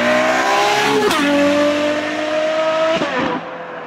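A Ferrari 812 GTS with a Novitec exhaust accelerates hard, its loud, close engine rising in pitch through two quick gear changes with brief drops between them.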